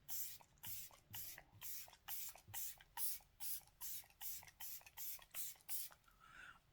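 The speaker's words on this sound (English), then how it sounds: "I'm going to spray my face" A fine mist sprayer hisses in a quick series of short, soft bursts, about a dozen evenly spaced pumps, close and quiet.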